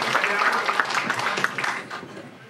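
Audience applause at a lecture on Super Bowl Sunday, brisk clapping that thins and fades toward the end.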